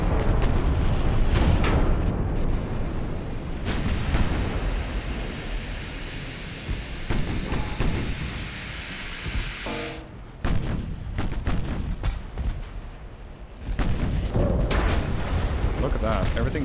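Naval artillery shells from a battleship engagement in Ultimate Admiral: Dreadnoughts: a steady, rumbling roar of gunfire and booming impacts, loud throughout, with brief lulls and a voice talking over it.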